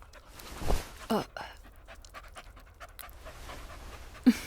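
A seeing eye dog pants in short, breathy bursts close by, with a few louder huffs and a brief whimper-like sound near the end, and no talk over it.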